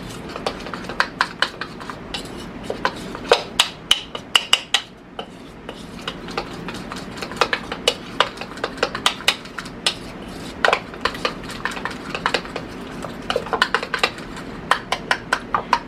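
A spoon stirs lime pound cake batter in a bowl, the batter holding yogurt, lime zest and lime juice. It gives a steady run of quick, close clinks and scrapes against the bowl, loud and continuous with no talk.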